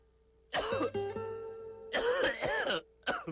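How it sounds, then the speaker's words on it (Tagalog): Harsh, close coughs burst out in two or three clusters with a throat-clearing sound between them, set against a quiet pulsing background in a cough remedy commercial. "Bahagi na ng ating pamumuhay ang ubo."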